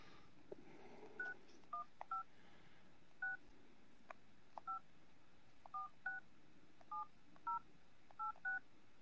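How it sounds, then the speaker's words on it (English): Telephone keypad DTMF tones dialing a number during a prank call, a quick series of short two-note beeps in irregular clusters, fairly faint against a quiet background. "call Hitman"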